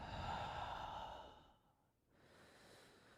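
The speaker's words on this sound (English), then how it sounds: "Exhales out the mouth." A slow, breathy exhale pushed out through the mouth during a morning stretching routine, close and soft, fading out after about a second and a half into a quieter breath.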